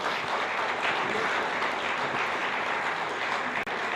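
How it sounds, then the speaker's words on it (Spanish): A church congregation at a Bible seminary applauds together, a dense, continuous wash of many hands clapping at steady loudness for the full stretch, with one brief dropout near the end. "Démosle un aplauso"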